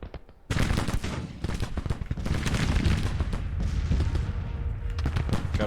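In Grand Tactician: The Civil War, 24-pounder cannons open fire, starting suddenly after a brief quiet lead-in, then a dense, loud barrage of overlapping booms and gunfire rolls on without pause, with no voices.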